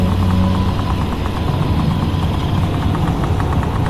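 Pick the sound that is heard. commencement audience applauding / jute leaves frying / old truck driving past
old truck driving past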